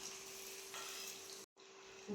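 Mustard seeds and strained onion frying in hot oil, a steady close sizzle with a brief cut in the middle before the sputtering resumes and grows louder at the end.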